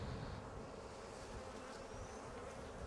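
Honeybees buzz steadily in a dense, close swarm around hive frames, a continuous droning hum with no voices.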